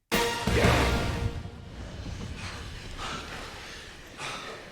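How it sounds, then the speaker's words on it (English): Heavy, ragged breathing and panting, a loud gasp at the start followed by steady audible breaths with no other sound. "all we hear is just panting"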